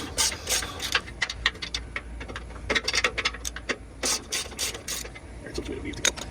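Rapid bursts of ratchet clicking from loosening the suspension bracket bolts on a Toyota Sequoia or Tundra truck, close and loud, coming in irregular runs of quick pawl ticks with short pauses between turns.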